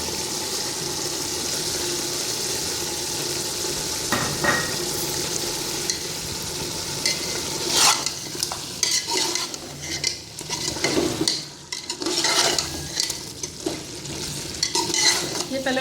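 Fried onions stirred into mutton cooking in a large pot for degi aloo gosht, with a steady frying sizzle and irregular scraping and clinking of a spoon against the pot, growing busier and more uneven in the second half.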